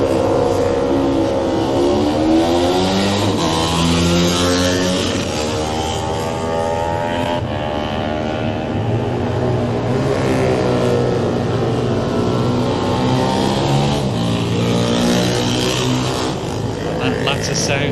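A Craven Manx Norton classic race motorcycle at the Classic TT setting off, its engine note rising and falling through the gears over a steady roar, with commentary talking throughout.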